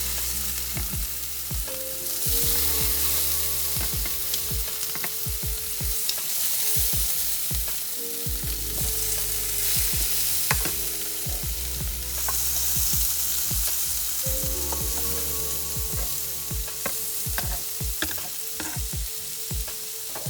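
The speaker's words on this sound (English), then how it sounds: "You'll let it cook for about 1 to 3 minutes on each side, and then you want to go ahead and flip it." Food sizzles steadily on a hot grill pan, a dense crackling hiss with occasional scrapes and clinks of a utensil, close and continuous with no talking.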